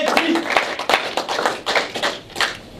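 A church congregation claps for Jesus in a rhythmic, fairly close series of about eight sharp beats at a steady tempo, with a voice speaking faintly underneath.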